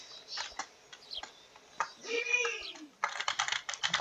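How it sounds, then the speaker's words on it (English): A clicky computer keyboard is typed on in quick, uneven bursts of crisp taps, close and clear, with a short pause and a faint sliding tone before a final rapid flurry. "Clickety keyboard."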